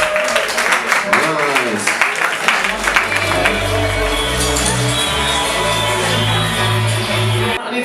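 At an evening music industry networking event, an audience applauds and cheers for an artist leaving the stage, with brief talk, and a deep musical beat rising beneath the crowd noise partway through.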